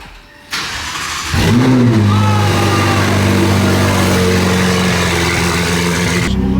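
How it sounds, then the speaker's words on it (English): A red Ferrari 488 with an 800 hp engine is cold-started nearby: a brief starter crank, then the engine catches with a loud flare and settles into a steady, strong high idle that runs alone until the end. "get it, cold start."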